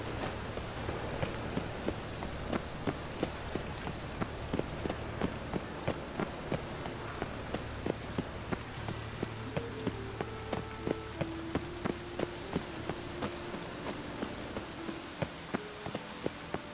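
Steady rain falling on surfaces in The Witcher 3 game world, a dense hiss with crisp droplet ticks, while regular footsteps or running pass through the scene without pause and no one speaks.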